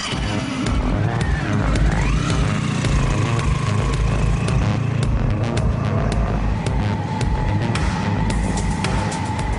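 A motorcycle with a sidecar rides along, its engine droning loudly and steadily throughout with a rising whine early on and constant road rumble, no voices over it.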